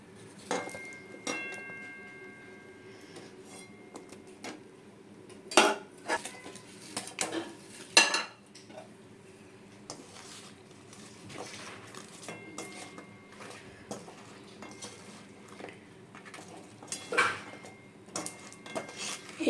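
Fried Puri-style khaja pieces are lifted one by one out of a pan, making sporadic metallic clinks and light scrapes of a utensil against the pan over a quiet background.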